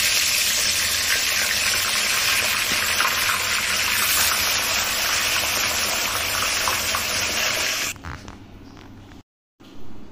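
Dried red chillies fry in a hot pan with a loud, continuous sizzle for about eight seconds, then the sound drops away abruptly to near quiet.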